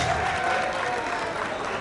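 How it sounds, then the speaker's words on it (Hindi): Applause from a gala audience at an annual company event, a steady dense wash of clapping filling the short stretch with a faint crowd murmur and some voices underneath. "आप लोग भरपूर तालियां बजाएं"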